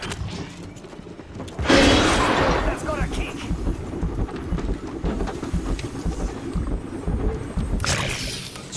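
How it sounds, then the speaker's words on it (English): A grenade detonates in a shooter video game with one loud, sudden blast and a long rumbling tail, followed by busy game noise and people talking, with another burst near the end. "Grenade, watch out."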